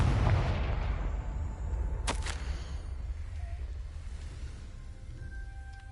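A Confringo explosive spell cast in Hogwarts Legacy, a single sharp crack-like burst partway through over a steady low ambient rumble, with fading tonal effects afterward.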